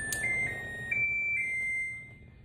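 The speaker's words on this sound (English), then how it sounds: "If you heard that ringing, that means our oven is preheated" A kitchen oven's preheat alarm sounds a steady, high electronic tone that holds for about two seconds before fading, with no talking.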